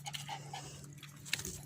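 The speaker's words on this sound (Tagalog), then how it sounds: "Dito na yung mga aso." Pet dogs close by, faint quick panting with a few soft whimpery sounds in a short burst.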